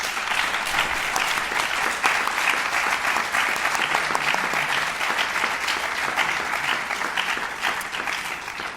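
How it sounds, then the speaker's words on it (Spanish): Applause from a lecture audience, dense and sustained at even loudness for the whole stretch, many hands clapping together with a faint crowd murmur underneath. "les pido para todos ellos un fuerte aplauso"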